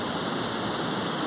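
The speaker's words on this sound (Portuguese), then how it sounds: "Ela cai na cachoeira aqui" Cachoeira do Piu, a waterfall in the Serra do Brigadeiro near Araponga, Minas Gerais, pours in a steady, dense broadband roar, close and continuous with no voices.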